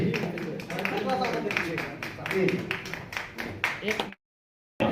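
An audience at a seminar in Varanasi breaks into applause, a dense stretch of many hands clapping close by with sharp irregular claps throughout, before cutting abruptly to silence.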